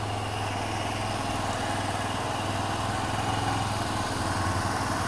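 A rebuilt Honda Elite 150 scooter engine idles on high idle, giving a steady, even mechanical drone with a low hum underneath, close by and unchanging throughout, with no one speaking.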